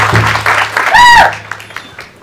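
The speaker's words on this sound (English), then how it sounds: "if you give a good round of applause for Mr." A crowd outdoors at a groundbreaking ceremony claps briefly, a short burst of applause mixed with voices and a whistle-like squeal, fading quickly to quieter murmurs.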